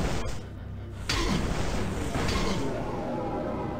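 A fireball spell cast by a sorcerer in Diablo 1 on Hell difficulty, heard as a sudden, loud, broad whooshing burst about a second in that rolls on as a sustained rushing roar.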